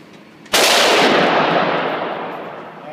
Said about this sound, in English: Scar, full auto.